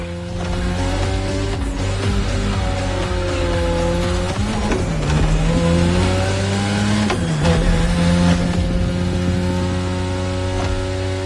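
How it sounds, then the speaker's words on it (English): A race car in the Motorfest video game drifts through sharp turns, its engine droning loudly and steadily with pitch dips and swells as it slides through each corner, with no talking. "These turns are sharp. You gotta drift through these, Shingo."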